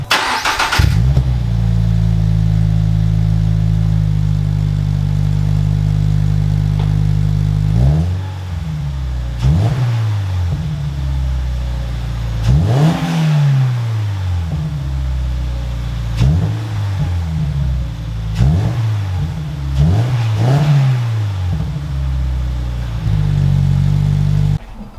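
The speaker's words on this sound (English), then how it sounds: "So once it warms up, let's give it a couple revs." A Toyota GR86 fitted with an APEXi N1 Evolution Extreme exhaust idles loudly and steadily, then gets a series of sharp revs that rise and fall about six times, close up, with no talking.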